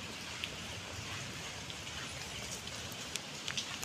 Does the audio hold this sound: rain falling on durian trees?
yes